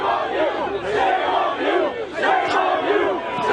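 A crowd chanting "shame on you" in unison, a loud, rhythmic group of many voices shouting in repeated waves with no single speaker standing out.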